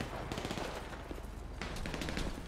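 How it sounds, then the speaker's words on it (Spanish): Gunfire in GTA V during a bank heist: a steady stream of rapid shots, like automatic weapons firing, continuing for the whole stretch at moderate loudness with no talk. "Oigo tiros"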